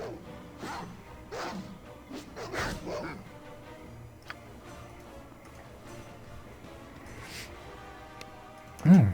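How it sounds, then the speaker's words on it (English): A dog barking in the video game Baldur's Gate: several sharp, close barks in a quick cluster early on, then quieter game ambience with a few soft thuds, ending on a louder burst. "Come on, it's just a dog."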